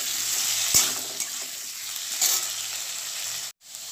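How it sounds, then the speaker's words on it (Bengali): Potatoes fry in a wok with a pinch of salt, giving a loud, steady close sizzle with a couple of sharp clinks from a spatula stirring, before the sound briefly cuts out. "কড়াইতে আলুগুলো ভাজতে তুলে দিয়েছি"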